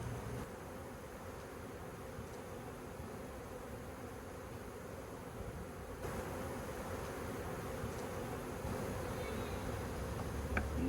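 A massive honeybee swarm buzzing steadily during a transfer into a new hive, a dense continuous drone that slowly swells in loudness, close and unbroken by voices.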